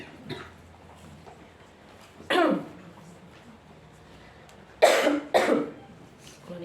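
A person with a cough that has lasted several days coughs three times, a single short burst followed after a pause by two quick harsh coughs close together, near and distinct against a quiet room.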